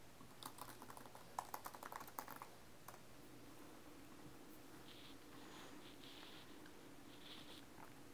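Fast clattering keystrokes on a computer keyboard during a live stream, a burst of rapid key mashing in the first seconds that thins into occasional taps, fairly quiet and close.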